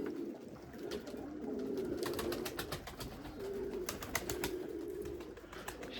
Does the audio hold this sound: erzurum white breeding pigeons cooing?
yes